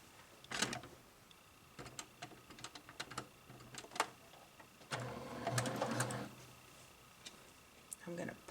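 A domestic sewing machine stitches a Kimberbell Cutie quilted table topper, running in short bursts with a longer sustained run midway, interspersed with faint clicks and handling noises while someone talks quietly.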